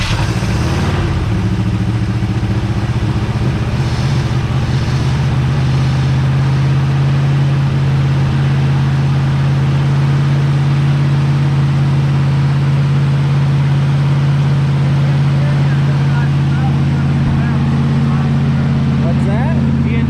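A 1966 Buick Skylark engine running rough as it tries to hold an idle, a steady loud low hum with some clatter that continues throughout.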